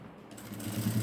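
A sewing machine stitching a small decorative border starts up and builds into a steady, close mechanical whir, alone and without voices.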